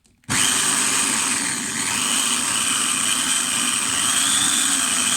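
A faulty power drill whirs loud and steady for several seconds after a sudden start, with a faint rattling buzz from inside the motor running through the noise.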